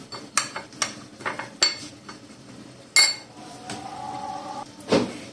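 A teaspoon stirring white sesame seeds into a bowl of vegetable salad, giving a string of sharp metallic clinks and taps against the dish at an irregular pace, close and fairly clear with no talking.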